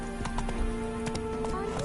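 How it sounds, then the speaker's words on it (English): Hoofbeats of a horse in The Witcher 3 video game, clopping in a loose rhythm with a brief whinny, heard over steady game ambience and some speech. "Spooking my horse."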